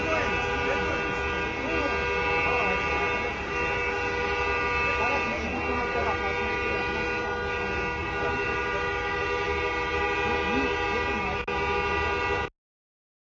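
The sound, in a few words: many car horns honking in street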